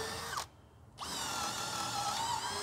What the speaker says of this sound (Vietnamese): Đây là một cái khúc gỗ thông, mình sẽ khoan cho anh em xem nha.